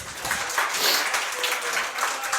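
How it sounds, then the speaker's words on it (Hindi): Enthusiastic applause from a crowd in a lecture class, a thick continuous clatter of clapping hands that stays strong throughout. "आप एक बार जोरदार तालियां हो जाए भाई के लिए"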